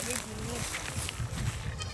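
Goats bleat in a rural setting, a short wavering bleat near the start, then softer animal calls and shuffling, mixed with a voice speaking over them.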